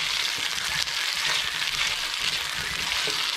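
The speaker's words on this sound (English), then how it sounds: "once those veggies have been sauteing for about 5 minutes" Vegetables sautéing in a pan for a Japanese curry vegetable sauce give a steady, hissing sizzle with a soft crackle, heard alone and fairly quiet.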